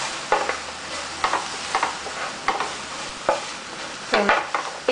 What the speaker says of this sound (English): See, sizzling.